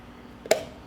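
Vacuum-sealed glass jar of home-canned meat stew popping open, a single sharp, close pop in an otherwise quiet room.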